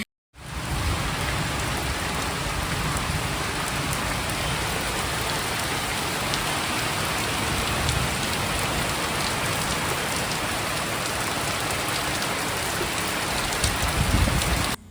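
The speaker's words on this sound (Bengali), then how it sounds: "ঠিক এই মুহূর্তে চলে এসেছে আবার জোরে বৃষ্টি" Heavy rain pours steadily and loudly, a dense unbroken hiss with low rumbling drumming throughout, no voices.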